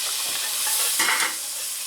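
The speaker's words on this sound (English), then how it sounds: "Oh, hear the sizzle." Red wine vinegar and olive oil dressing sizzles in a hot pan for a salad, a steady close, loud hiss with a brief swell midway, no talking.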